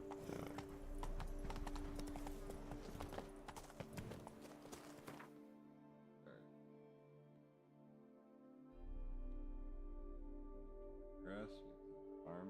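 Hooves of a horse gallop in The Witcher 3, a loud, fast clip-clop that drops away midway and then picks up again, with game ambience underneath.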